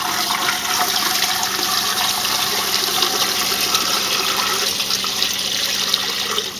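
Hot tap water pours steadily into a tub of fresh okra in a home kitchen, a continuous rushing splash that stays loud and even from start to finish, with no talking.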